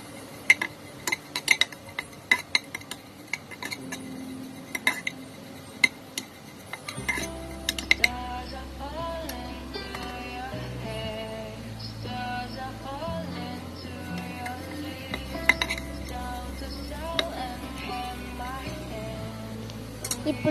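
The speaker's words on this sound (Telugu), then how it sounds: "ఇప్పుడు ఈ క్యారెట్ ఫ్రైలో వెల్లుల్లి కారం కలుపుకోవాలి" A spoon clinks and scrapes against a pan while garlic chili powder is mixed into a carrot fry, as sharp, irregular taps over quiet background music.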